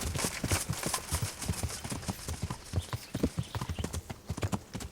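Horse hooves gallop in rapid, rhythmic clip-clop in the Kingdom Come: Deliverance video game, loud and close, with occasional thuds and game ambience around the steady beat.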